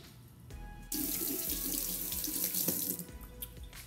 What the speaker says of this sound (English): Now we wash everything.